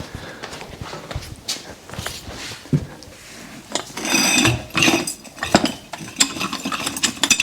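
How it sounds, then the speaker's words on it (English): Metallic ratcheting, clanks and knocks come from a car jack being lowered and pulled out from under a 2015 Honda Odyssey, irregular and close, in short bursts with pauses between. "now we can take out the jack"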